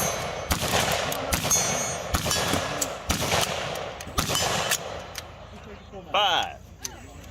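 A law-enforcement or military rifle set to electronic burst and full-auto fire cracks out in several loud, close bursts of rapid shots, with a metallic clang near the end and voices talking over it.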